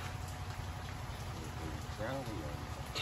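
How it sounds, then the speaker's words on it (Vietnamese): Heavy rain pours down during a coastal storm in Duyên Hải, Vietnam, a dense and steady hiss that fills the whole stretch, with a voice briefly heard under it. "Mà đã rồi mưa lớn thiệt."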